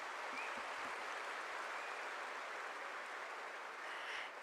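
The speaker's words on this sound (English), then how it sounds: "A huge round of applause" An audience at a spirituality festival event claps in a steady, dense wash of applause, fairly faint and distant, lasting the whole moment without a break.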